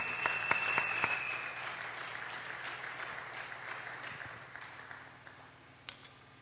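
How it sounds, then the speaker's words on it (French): A church congregation claps and cheers, a dense wash of applause with a few sharp claps early on that gradually thins and fades toward the end. "Nous acclamons le Seigneur très très fort."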